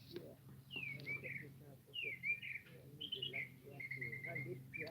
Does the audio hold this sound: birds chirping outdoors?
yes